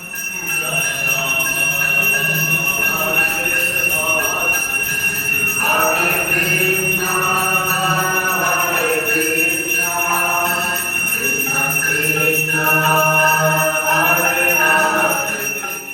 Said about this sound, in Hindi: यहाँ पर हरे कृष्णा महामंत्र का हर समय जाप चलता रहा।